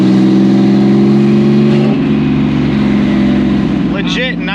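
An EG33-swapped Subaru WRX STI drives on the road after a fresh wheel alignment, its flat-six engine droning steadily and close, with a shift in pitch midway and a brief rise in revs near the end; people talk over it.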